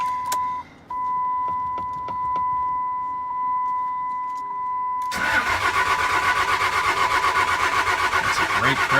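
A car at a dealer-only auction of broken and crashed vehicles, jump-started with jumper leads, cranks and catches after a steady electronic chime, then runs loudly at a rough, even idle to the end.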